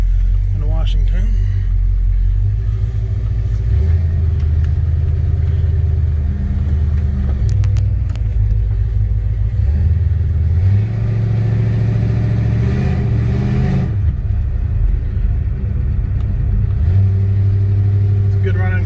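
A 1966 Ford Falcon Futura station wagon engine runs while driving on a warm day in Washington, a steady loud low rumble that rises and falls with throttle and shifts throughout, heard from inside the car.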